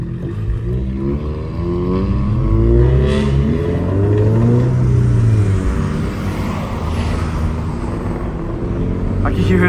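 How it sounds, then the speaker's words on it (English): A turbocharged car engine accelerating hard at night, its pitch sweeping up through the revs in a loud, close rise and falling back again, with voices talking over it. "I can hear his turbos, bro. That shit sounds crazy."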